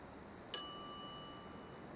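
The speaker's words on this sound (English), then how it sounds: "Ring bell for service." A single bright metallic ding of a service bell in the point-and-click adventure game The Secret of Monkey Island, one sharp strike at mid-clip that rings on with a clear, slowly fading tone over soft background hum.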